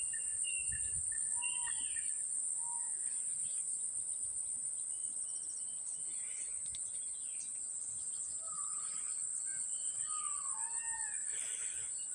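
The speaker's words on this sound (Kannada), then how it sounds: "ಹಕ್ಕಿಗಳು ನವಿಲು ಎಲ್ಲ ಎಷ್ಟು ಚೆನ್ನಾಗಿ ಕೂಗ್ತಾ ಇದೆ ಈ ಸೌಂಡ್ ಕೇಳೋದೇ ಒಂದು ಚಂದ" Birds call and chirp in scattered bursts near and far over a continuous high insect drone on a morning beside a paddy field near a river, the calls faint to moderate.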